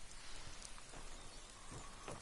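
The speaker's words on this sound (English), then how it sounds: "it's kind of fitting, I suppose, in Falkreath that it's raining as soon as we get here" Steady rain falls in the town of Falkreath in the video game Skyrim, a continuous dense hiss with scattered faint patters, even and moderately loud with no voices over it.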